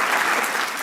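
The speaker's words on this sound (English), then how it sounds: "Please clap. Clap, come on guys." A crowd at a poetry gala applauds a poet who has just finished performing, a brief, loud, dense burst of many hands clapping together with no voices heard.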